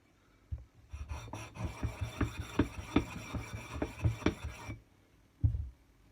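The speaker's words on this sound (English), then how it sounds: "just rub on it until the pencil marks are completely gone." A stone rubs back and forth across an axe puck to flatten it, producing a rhythmic series of close, gritty rasping strokes that stop near the end, followed by one last short scrape.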